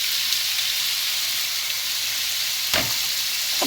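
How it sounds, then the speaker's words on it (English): Shrimp dropped into hot oil in a pan give a loud, steady, close sizzle that fills the whole stretch, with a couple of brief scraping or stirring bumps near the end and no talking. "And throw in my shrimp."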